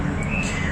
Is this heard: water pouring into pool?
no